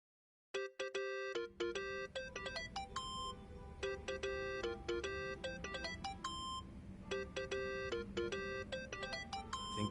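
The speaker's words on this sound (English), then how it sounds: "Think that's your phone, man." Phone ringtone in the video game Yakuza 7: Like a Dragon, a bright repeating electronic melody of beeping tones that starts abruptly and rings steadily, loud and clear, with no talking over it.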